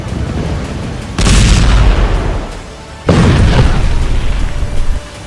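Explosions in Gaza boom loudly in two heavy blasts, each a sudden deep roar that slowly decays into rumbling, heard close and without talk.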